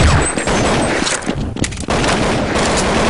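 Continuous gunfire in the Counter-Strike video game: dense, rapid bursts of shots roll on almost without pause. A brief dip in the middle breaks the close, loud fusillade.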